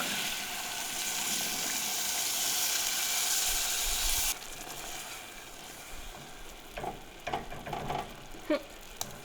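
Velveeta and milk sizzle in a hot pan in a steady hiss that drops off abruptly, followed by a few soft scraping stirs and taps of a utensil.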